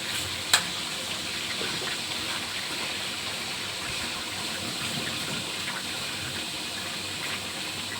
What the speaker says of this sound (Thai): มาทอดหมูเนื้อแดงกันนะคะ